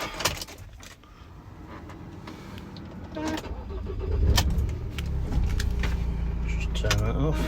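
A 2017 Ford Transit 2.0 TDCi EcoBlue dropside van is started after a jangle of keys, the diesel engine catching and settling into a steady low idle that holds for several seconds.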